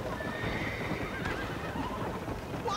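A horse in Red Dead Redemption whinnies loudly up close over a quick, steady clip-clop of galloping hooves, with no voices present.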